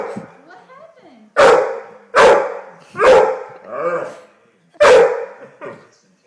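A dog barks repeatedly indoors, close and loud, with five sharp barks in uneven rhythm, one a drawn-out whining yowl, after soft whimpering grunts at the start.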